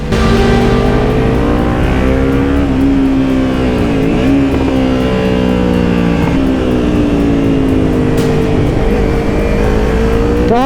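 A car engine runs hard on a racetrack, droning loud and steady at high revs, its pitch sliding down and back up as gears change about midway. It sounds close, from inside the car.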